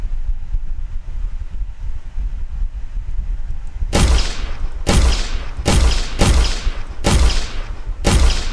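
Six heavy gunshots boom out in an Unreal Engine template game, each one loud with a long decaying tail. The shots come at uneven intervals about a second apart and follow several seconds of low wind-like ambience.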